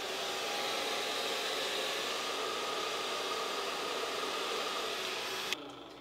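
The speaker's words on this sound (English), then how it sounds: "I'm gonna take my blow dryer and we're just gonna dry her up" A blow dryer drying a full lace wig whirs steadily at close range with a constant airy hiss, then cuts off abruptly near the end.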